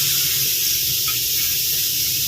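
Cooking oil sprayed onto fish fillets frying in a pan, giving a steady, loud, unbroken hiss throughout.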